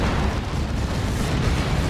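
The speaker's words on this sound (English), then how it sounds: "It's a creeping barrage from the Lord General." Continuous rumbling artillery explosions from a creeping barrage in the strategy game Dawn of War 2, a dense, steady low roar of overlapping blasts with no distinct gaps, loud and unbroken throughout.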